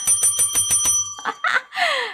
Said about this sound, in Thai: ทำไมกระดิ่งดังเสียงแปลกๆอะ่ะ